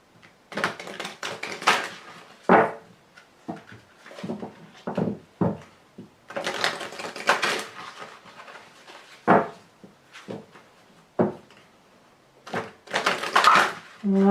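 Oracle cards being shuffled and cut, giving a run of crisp, close papery slaps and riffles in uneven bursts with short pauses between, no talk.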